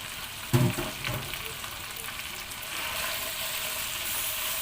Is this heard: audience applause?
no